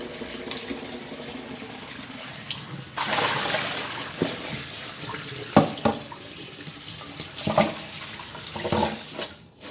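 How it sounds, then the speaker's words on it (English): A kitchen tap runs to rinse soaked pumpkin pieces for a Thai pumpkin and coconut milk dessert. The water runs in bursts of splashing and gushing, with short sharp spatters as it strikes the pumpkin and the basin. "We're going to rinse out the kapo water and then we will start cooking the pumpkin."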